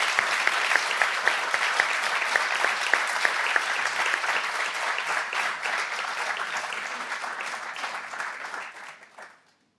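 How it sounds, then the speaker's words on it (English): An audience gives a round of applause, continuous dense clapping at a strong steady level that thins out and fades away toward the end. "I think we ought to give Tammy a round of applause."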